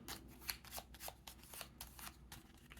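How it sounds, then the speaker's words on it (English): Playing cards riffled and slid together as one card is shuffled into a mission stack of a solo Mint Imperium board game, a close, quiet, papery flutter of repeated soft snaps over about three seconds with no talking. "we take the top card, we shuffle it into the mission stack"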